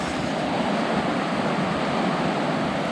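A strong river current surges through rapids in the Victorian High Country during high water, producing a loud, steady rushing roar that fills the whole clip without a break.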